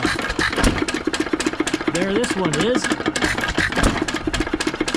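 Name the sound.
antique stationary gas engine running with large muffler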